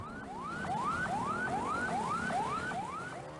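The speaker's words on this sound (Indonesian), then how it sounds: "ambulans dengan sirene yang menyala juga terpaksa ikut terjebak banjir" An ambulance siren wails in repeated rising sweeps, about seven cycles, loud and steady over the low rumble of traffic crawling through floodwater 40 to 60 cm deep on the Pantura Kaligawe road.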